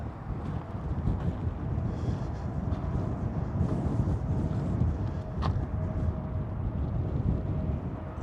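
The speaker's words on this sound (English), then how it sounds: "It's kind of windy today" Gusty wind buffets the microphone outdoors near a hillside chapel, a steady low rumbling roar with fluctuating intensity and no speech.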